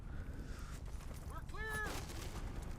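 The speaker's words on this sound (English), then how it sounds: "And now I'm actually using a 2-burst weapon" A two-round burst weapon firing in Battlefield Bad Company 2, with short sharp reports over constant battle noise, followed by a brief tonal whine and some heavier rumbling.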